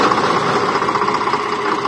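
A tractor engine idles during a wheat harvest in a field, giving a steady, close, moderately loud rumble with a slight knocking texture and no pauses.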